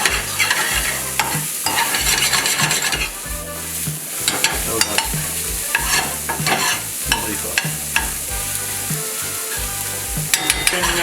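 Meat, onions and tortillas frying together in a non-stick saute pan, a steady close sizzle with frequent scraping and stirring clatters from a utensil throughout.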